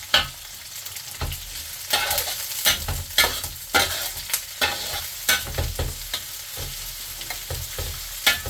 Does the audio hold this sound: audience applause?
no